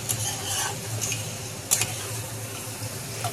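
Veg chowmein is stirred in a pan with close scraping and tossing strokes over a soft, continuous sizzle.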